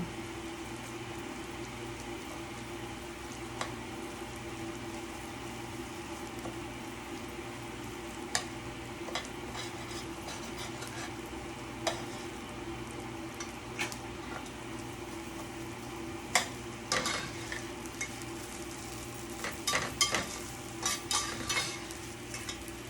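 Garlic and rice frying in a pan for Mexican white rice, a soft continuous sizzle under occasional sharp scrapes and clicks of a utensil stirring, close and steady with no talking.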